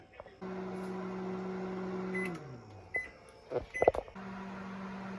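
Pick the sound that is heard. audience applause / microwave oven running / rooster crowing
microwave oven running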